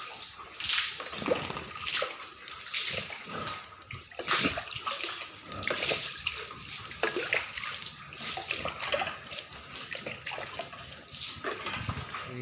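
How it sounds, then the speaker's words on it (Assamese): Potash water sprays out across a pig pen in repeated hissing, splashing bursts, fairly close, with short pauses between strokes and no talking. "এতিয়া মই পটাছ পানীটো ছিটিয়াই দিছোঁ।"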